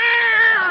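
A single clear, close cat meow, short and tonal, heard on its own.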